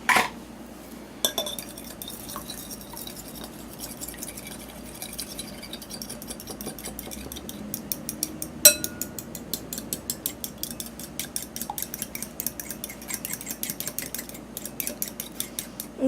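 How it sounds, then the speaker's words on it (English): Four eggs lightly beaten in a small bowl for zucchini bread: a fork or whisk clinks rapidly and steadily against the bowl, close and fairly quiet, with a sharper knock near the middle. "in our small bowl, we are going to add our 4 eggs. We need to slightly beat these."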